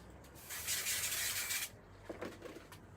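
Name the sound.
spray glue being sprayed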